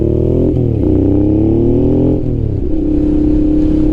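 A Honda NT650 Hawk motorcycle engine revs up loud and close, its pitch rising and falling through several throttle blips before settling to a rough idle.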